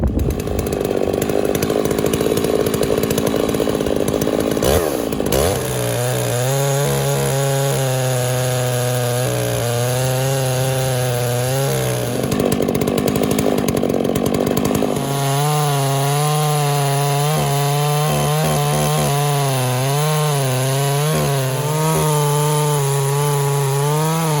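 A chainsaw mill on an undersize bar makes a first cut through a small log, the engine revving loud and close in two long sustained cutting passes with pitch dips as it bogs and recovers.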